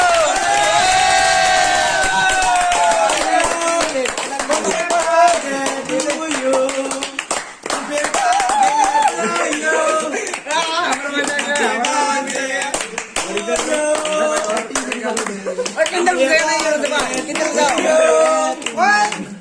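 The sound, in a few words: people clapping at a hostel birthday party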